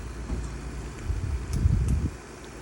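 Cold wind gusting outdoors on a chilly, partly sunny day, a low rumbling buffet that swells and fades, growing stronger toward the middle before easing off.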